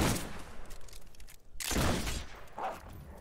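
Gunfire in the fantasy action game Fable 3: a burst of loud, sharp shots opens the clip, then after a brief gap a heavier blast rings out with a fading tail, followed by a smaller pop, all without talk.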